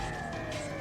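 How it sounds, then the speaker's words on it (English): Police car sirens in the game Steins;Gate 0 hold a steady high wail for a brief moment, distant and fairly faint behind a hazy background wash. "A while later, we finally heard the sirens of a police car."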